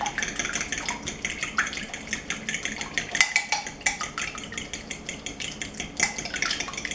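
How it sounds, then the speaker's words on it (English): Whisk clattering rapidly against a bowl while blending an Italian marinade for a mushroom salad, a steady run of quick metallic ticks and scrapes close by, with no talking. "you want to sort of whisk this together"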